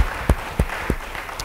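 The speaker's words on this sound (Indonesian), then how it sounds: "beri tepuk tangan yang baik buat Tuhan" Scattered claps from a church congregation during an Indonesian sermon, a few sharp, separate hand claps spaced about a third of a second apart, fairly close, with no talking over them.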